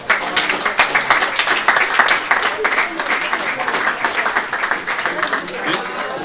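An audience applauds a magician's trick, a dense, steady wash of many hands clapping throughout, fairly loud and close.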